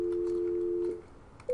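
A desk phone on a Cisco Unified CM Express system gives a steady electronic ring tone after an extension is dialed. The tone holds for nearly a second, cuts off, then starts again briefly.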